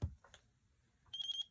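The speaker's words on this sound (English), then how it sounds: "select the bind with telemetry off, no telemetry. That'll start to beep." A FrSky Taranis X-Lite S transmitter in bind mode gives a faint, brief electronic beep, a short high tone near the end of an otherwise quiet moment.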